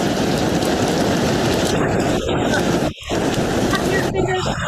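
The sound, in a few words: audience imitating rain by tapping fingers and blowing wind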